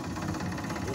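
Farmtrac Champion 41 hp tractor engine idling with a steady, even mechanical rumble and faint knocking, close and continuous through the brief moment, with no voices.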